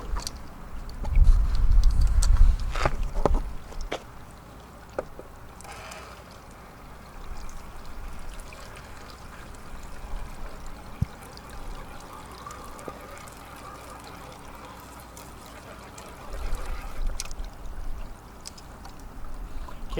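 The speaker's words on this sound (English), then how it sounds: "Okay, I'll wash the rest of it in with the hose." A hose washes loose material into a Sluice Goose gold sluice, giving a steady close rush of pouring, trickling water with a louder gush early on, continuing throughout with no talk.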